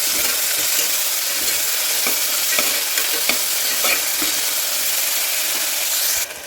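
Onion, garlic and a Bangalore tomato with salt sauté in a pan, producing a loud, dense, continuous sizzle with faint stirring scrapes throughout, close up, cutting off abruptly at the end.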